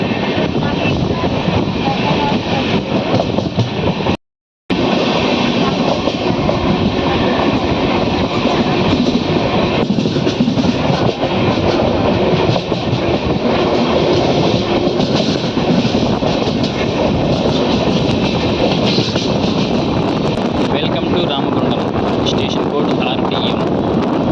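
Sirpur Kagaznagar–Secunderabad SF Express train rolling along the rails near Ramagundam, a loud steady broadband rumble with a brief dropout early on, continuing unbroken for the rest of the stretch.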